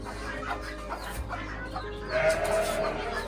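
Hens cluck softly in a laying coop on a farm in Benin, scattered low calls with a brief, slightly louder trill near the end, close by and fairly quiet.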